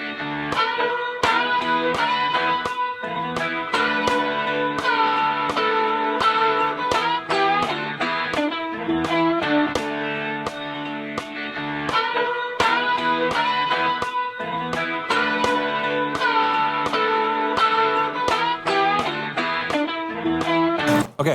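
Electric guitar playing solo licks one and two, repeated rapid picked phrases with string bends and double-stop bends, a mildly driven tone at steady volume across about twenty seconds, close and with no talking.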